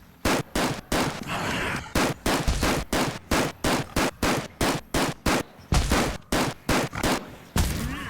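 Gunfire in a zombie roguelite video game cracks out in rapid, evenly spaced shots, loud and close, with brief gaps between short bursts and no talking.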